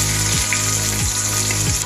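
Chopped onion frying in coconut oil with popping mustard seeds for an egg curry, giving a steady close sizzle with a few soft low thumps, no voices.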